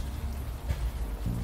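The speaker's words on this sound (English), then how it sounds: "She's gonna have to sleep in the rain whilst June draws." Rain falls in the video game Unavowed, a soft continuous patter with a couple of faint low thumps, no voices over it.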